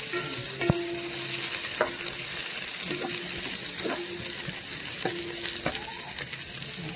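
Garlic, onion and lemongrass sautéing in a pan, a continuous sizzle at moderate level with repeated spatula scrapes and taps at intervals, no voices.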